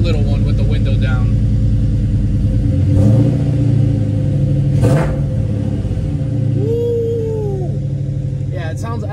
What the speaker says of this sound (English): Let me give it a little rev, just a little one with the window down.